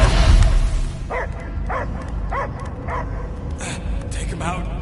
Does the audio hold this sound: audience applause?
no